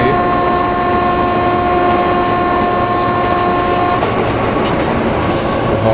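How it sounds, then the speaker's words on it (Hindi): A WAG 7 locomotive in a train simulator game sounds a loud, steady tonal horn over a continuous rumbling train drone, the horn holding for about four seconds before cutting off while the rolling hum continues. "हम लोग अपना हॉन्क बजाते हुए उस जगह से निकलेंगे"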